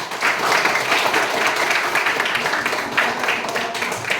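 A classroom of students applauds at the end of a lesson, a dense, even wash of clapping that holds steady and fairly loud for several seconds.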